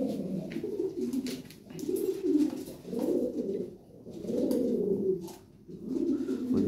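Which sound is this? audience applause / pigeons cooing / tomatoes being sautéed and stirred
pigeons cooing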